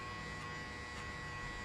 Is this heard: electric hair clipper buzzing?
yes